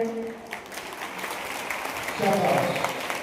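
An audience at a university award ceremony claps in a scattered way that swells into fuller applause midway, while a voice speaks over it through much of the time.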